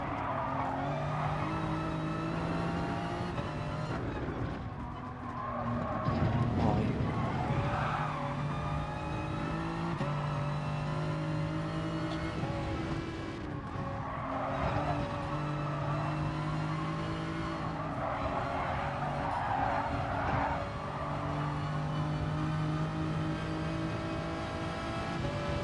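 Race cars in Gran Turismo Sport roar continuously, engines droning and shifting pitch as the cars run close together in traffic, with occasional tire squeal and no voices.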